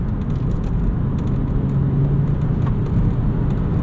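A 1997 Volvo 850 R engine running, heard as a steady, loud low rumble and whir from inside the car, continuous and unbroken with no voices.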